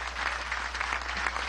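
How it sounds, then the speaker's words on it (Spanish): An audience of soldiers and military chiefs gives dense, sustained applause, a brief burst of steady clapping over a low constant hum. "Un aplauso, hermanos y hermanas"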